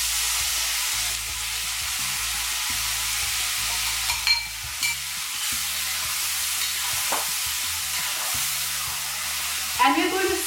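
Five chopped medium tomatoes sauté in oil with ginger and green chilies, giving a steady, close sizzle broken by occasional stirring scrapes and light clinks, with no talking.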